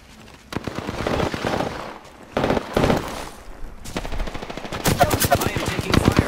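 Rapid automatic gunfire in the shooter game Apex Legends, several loud bursts of fast rattling shots separated by short pauses, the last stretch a quicker string of sharp cracks, close and dominant.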